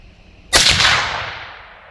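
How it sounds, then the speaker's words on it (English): One loud rifle shot fired outdoors while testing a day-and-night thermal scope, a sudden sharp crack with a lingering echo that decays over about a second and a half, no voices. "Point of impact will be now. Shot number 3."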